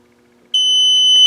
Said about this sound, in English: That long beep is putting the head array into Bluetooth mode.